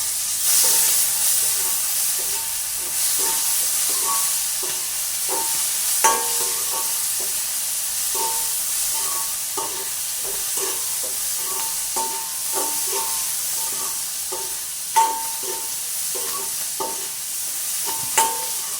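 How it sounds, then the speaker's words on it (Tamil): Chopped tomato sizzles in a hot pan for a Tamil chickpea curry, a steady frying hiss broken by frequent scraping and clinking strokes of a stirring spoon against the pan. "வெட்டி வச்சிருக்கிற ஒரு தக்காளி பழத்தை வந்து நாங்கள் இப்போ போட போகிறோம்."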